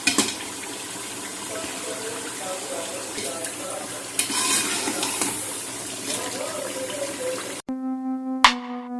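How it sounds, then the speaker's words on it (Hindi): Chicken gizzards near the end of frying in a pan of oil give off a steady, dense sizzle and crackle for most of the clip, then cut to a short sustained tone at the end. "तकरीबन ये फ्राई हो चुकी है, तो ऑयल सारा ऊपर आ चुका है।"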